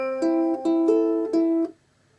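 A ukulele picks out a short repeating fingerpicked pattern, four clear notes ringing in steady succession before fading to silence.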